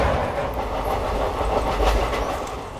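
A passenger train on the Saurashtra Express route rumbles steadily past a level crossing, with continuous rolling wheel noise and faint rhythmic clatter close by, loud and unbroken.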